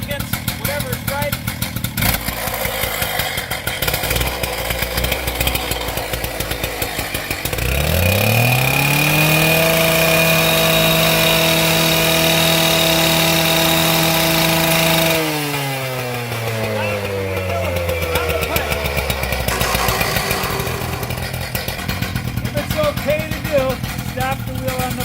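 A gas-powered demo saw runs before cutting, first idling roughly, then revving up to a high, sustained whine, then winding down as its pitch falls, loud and close, with someone talking throughout.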